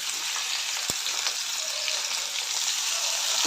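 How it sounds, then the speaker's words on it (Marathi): Onions and tomatoes sauté in ghee in a pan, giving a soft, steady sizzle with a single sharp clink of a utensil near the start. "थोडंसं लालसर होईपर्यंत हे परतून घेऊया आपण"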